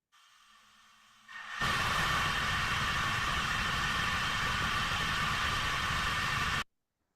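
Zenith stage 1 rocket engine on a test firing: a steady, loud roaring hiss cuts in abruptly after a quieter lead-in, holds for about five seconds, then stops sharply, with no voices.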